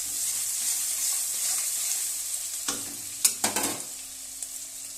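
Food frying in a pan for veg Manchurian, a constant sizzle with a few sharp scraping stirs near the end, close and without talk.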